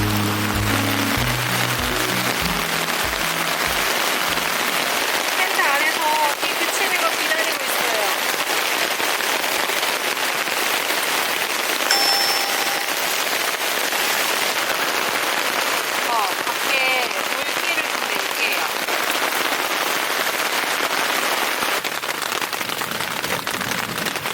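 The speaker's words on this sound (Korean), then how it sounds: "비가 쏟아졌어요" Heavy rain pours steadily on a camping spot during a backpacking trip, a dense continuous hiss with scattered patters and drips, loud and unbroken throughout; some brief thumping sounds at the start.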